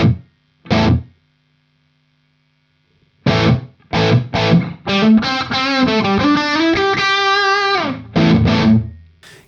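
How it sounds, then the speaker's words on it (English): Distorted electric guitar played through a Two Notes Torpedo with reverb: a few separate chord stabs, then a run of sustained notes, each ending in a spacious tail. "Let's quickly check out the reverb."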